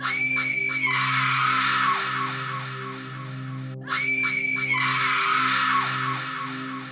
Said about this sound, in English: It opened its maw and shrieked